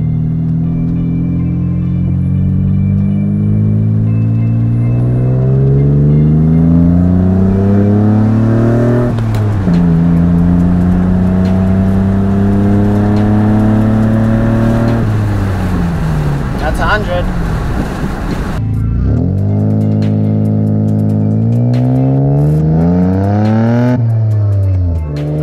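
Mercedes W203 with a swapped M104 inline-six and 6-speed manual revving on back roads, loud engine rising through repeated climbs, with pitch drops at gear changes and a lift-off before pulling again.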